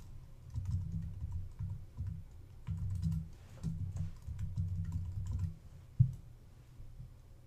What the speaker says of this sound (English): I'm going to type my word again by clicking right below my first word